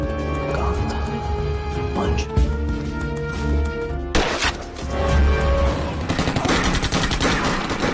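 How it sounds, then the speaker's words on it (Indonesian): A special forces sniper fires on a terrorist in a dramatic action scene, with loud gunfire bursts and crashing impacts over a tense musical score, the shots growing denser and harsher midway. "sniper yang telah bersiap langsung melepaskan tembakan headshot"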